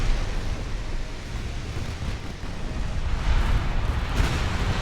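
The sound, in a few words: torpedo salvo in Ultimate Admiral: Dreadnoughts video game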